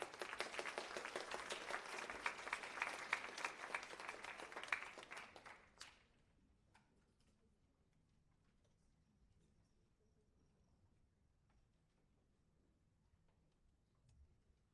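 At a youth meeting held at a university, an audience applauds two senior high school teams; the clapping is dense for about six seconds, then stops abruptly, leaving near-silence with a few faint ticks and taps.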